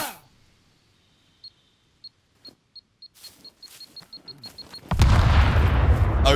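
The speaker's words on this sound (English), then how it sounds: "the arrow did no damage, but the explosion can kill me" Explosive arrow in the survival game Scum: a series of short clicky ticks at a quickening pace, then a loud sudden detonation with a sustained roaring blast.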